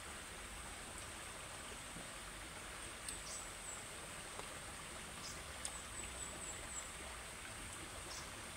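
A riverside stream flows steadily, a soft, even wash of water noise with faint occasional splashes, fairly distant and calm with no voices.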